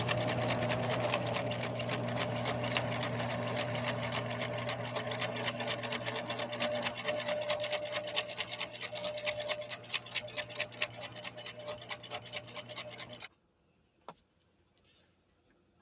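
A Husqvarna Viking sewing machine runs steadily through a 3-point zigzag stitch, with a rapid even needle rhythm and mechanical hum close up. It stops abruptly near the end, leaving a few faint clicks.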